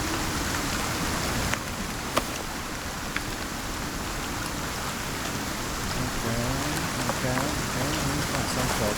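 Rain falls in the survival video game ICARUS, a steady close patter on surfaces with a few sharper drops, while a voice talks faintly underneath.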